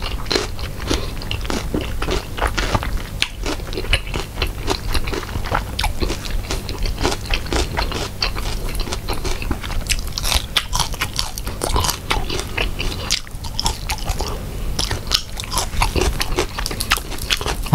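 Someone is eating a spicy Thai fresh shrimp salad with crispy noodles, heard close and continuous: dense, steady crunching and chewing without pause for nearly eighteen seconds, with no talking.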